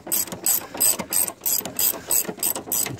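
A hand ratchet clicks in quick repeated strokes while bolts are tightened on a 2012 Nissan Altima 2.5L CVT transmission, giving about nine short close metallic bursts in an even rhythm.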